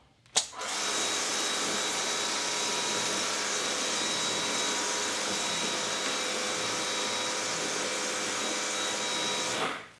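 A Fanttik NB8 Fold electric pressure sprayer runs steadily for nearly ten seconds, misting rinseless wash solution onto a car panel with a loud, even motor hum and hiss after a brief click at the start.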